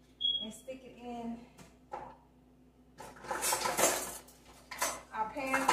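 Butter going into a pan for shrimp, with clinks and scrapes of cookware and utensils, a quiet gap in the middle, then a busy burst of metallic clatter and rattling close by.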